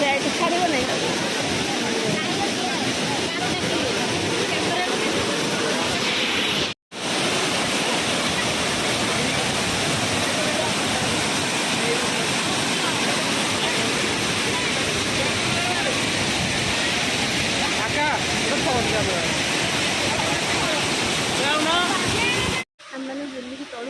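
Sanaghagara waterfall in Keonjhar roars steadily with dense, broadband rushing water, constant and loud close by, with two brief cuts breaking the flow.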